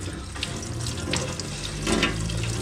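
Hot water pours steadily from the tap of a Coachman Festival (Acadia) 460/2 caravan, a continuous close splashing rush with no voices over it.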